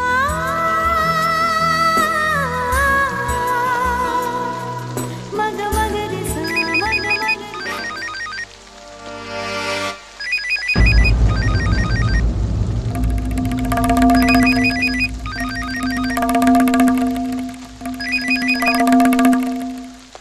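A telephone rings in a Hindi TV drama scene, with repeated electronic ringtone bursts starting midway and continuing in regular pulses after earlier background music.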